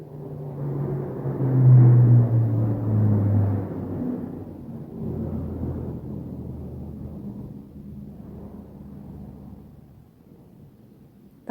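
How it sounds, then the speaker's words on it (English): Hercules aircraft flying past overhead, a broad low droning rumble that swells loudest early on, then slowly fades into the distance over about eleven seconds, with no voices. "If you could hear that aeroplane, that was Hercules just flying past."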